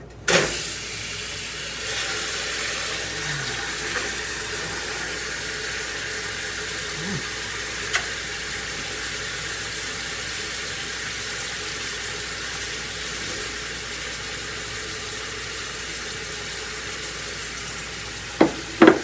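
Couple of teaspoons of olive oil in a hot frying pan, a steady broad sizzle holding evenly throughout, with a few sharp clicks near the start and end.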